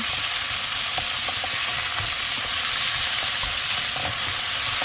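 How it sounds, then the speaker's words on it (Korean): Squid and radish stir-fry sizzles steadily in a hot pan while being stirred, with a constant close frying hiss and faint scraping taps. "이렇게 저어서 좀 익혀준 다음에 다른 야채도 넣고 하겠습니다"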